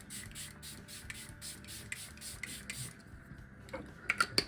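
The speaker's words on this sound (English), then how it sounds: "let's go in with a quick setting spray" A run of quick, hissing bursts of makeup setting spray repeats in a steady rhythm, close and soft, followed by a few small clicks.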